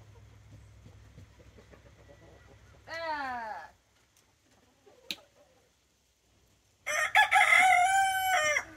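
Rooster crows twice nearby, each a loud rising-and-falling call separated by quiet, over a low engine-like hum.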